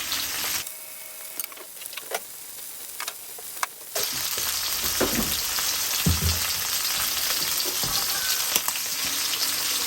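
Shrimp fry in a pan with a loud, steady sizzle that jumps up after a quieter opening stretch of light clicks and ticks, close and continuous, with occasional stirring or shifting sounds.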